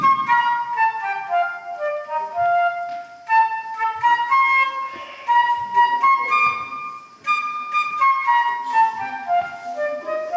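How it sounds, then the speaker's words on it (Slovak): Transverse flute played solo by a young student at a school educational concert, a bright melodic excerpt of quick running notes and short held tones, close and clear with no talking. "Trošku väčším hudobným nástrojom od flauty pikoli je flauta, je to priečná flauta."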